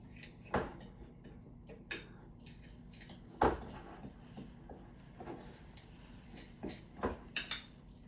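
Cinnamon roll ingredients are stirred in a bowl by hand, giving a handful of scattered clinks and scrapes of a utensil against the dish, quiet and unhurried with gaps between strikes.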